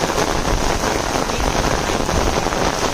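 Downpour soaking a waterlogged farm field, heard as an even, dense hiss of rain close up, constant in level and free of talk.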